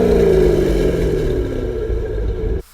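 The 427 cubic inch engine of a 2006 Corvette Z06 C6 revs in a loud, close, sustained droning roar whose pitch gradually falls before cutting off abruptly, with no talking.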